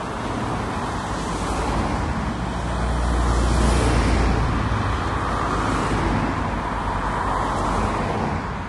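Steady, loud roadside traffic roar beside a busy road, a continuous broadband rumble that swells slightly in the middle as vehicles pass, with no voices.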